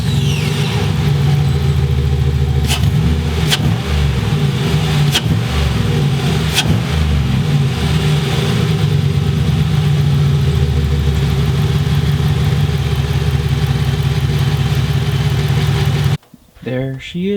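Chevrolet Impala SS V8 fitted with a new K&N cold air intake, idling with a loud, steady rumble and a few sharp revs in the middle, close up, before cutting off near the end.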